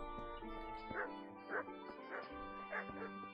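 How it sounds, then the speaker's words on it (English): A dog in the video game Kingdom Come: Deliverance, giving a series of short low growls and whimpering yips repeated roughly every half second over a quiet background hum. "Don't growl at me, boy."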